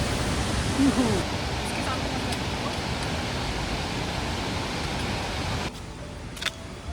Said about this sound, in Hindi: अब टाइम हो चुका है एक और वाटरफॉल का।